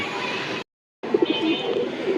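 A pigeon coos in a few soft, repeated notes against a steady hiss of background noise, with a brief silent gap near the start.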